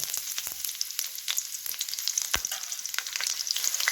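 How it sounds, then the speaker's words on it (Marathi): Green chillies fry in hot oil for a crispy corn snack, a dense continuous sizzle and crackle with scattered pops and an occasional stirring knock. "ह्यात थोड्या मिरच्या तळून घेऊया"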